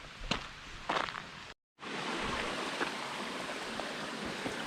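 Steady broadband rush of stream water flowing over rocks and a branch along a hiking trail, close and continuous after a brief cut, with a few footstep-like scuffs at the start.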